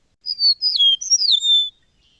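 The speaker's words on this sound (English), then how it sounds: "Eastern meadowlark." A single eastern meadowlark song phrase: a clear, high, squeaky series of sliding whistles ending in a long descending note, close and alone against silence.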